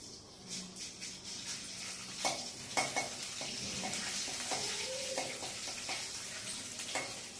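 Ginger garlic paste sizzling in hot oil in a pan while cooking aloo matar curry, with a steady frying hiss, stirring clinks and scrapes of a spoon against the pot throughout.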